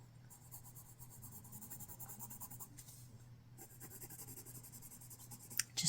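Colored pencil shading pink onto paper with light pressure, a close, steady rapid scratching of back-and-forth strokes, pausing briefly midway before resuming, with no speech.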